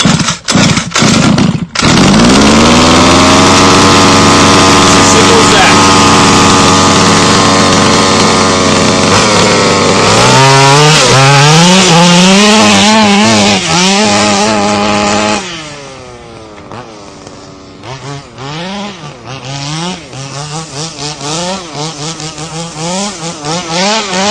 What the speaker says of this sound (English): We're going to pull the pull start just a couple times until we hear it fire.